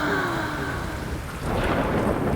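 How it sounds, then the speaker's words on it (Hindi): Heavy rain pours steadily through a lonely night storm, with a broad hiss and low rumbling thunder rolling beneath it, loud and continuous throughout. "भरी बरसात,"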